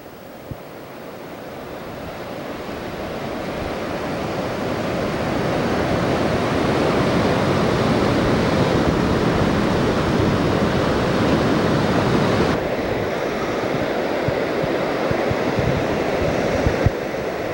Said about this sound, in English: All this water is rushing down that way and nowhere to go.